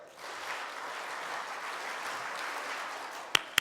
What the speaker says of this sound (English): Round of applause, that's excellent.